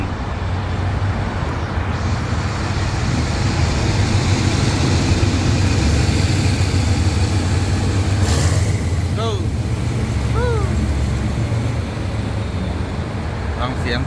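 A special-service train's locomotive engine accelerating, heard as a loud, steady low rumble that persists throughout, with a brief higher whine and faint squeal partway through.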